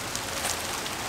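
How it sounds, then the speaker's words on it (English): Rain falling outdoors during a striped bass fishing trip, a steady broadband hiss of drops with a few brighter patters, no voices. "It's starting to rain here, I'm getting the hell out of here."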